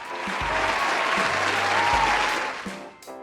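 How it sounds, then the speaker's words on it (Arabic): Warm applause from a studio audience, steady dense clapping that fills the clip alone, with low musical tones underneath. "تصفيق حار يا جماعة."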